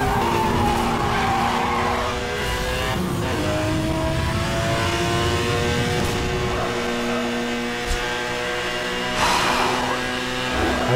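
A Porsche racing in Need for Speed Hot Pursuit, its engine revving and shifting through gears with long tire squeals and skids, loud and close throughout, with brief thumps near the end.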